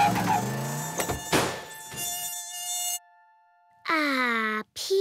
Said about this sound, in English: Oh dear, mosquitoes.